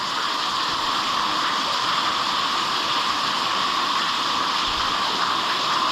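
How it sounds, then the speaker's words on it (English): Water flowing inside an abandoned coal mine, a steady, moderately faint rushing hiss that continues without a break. "I think that's just water there."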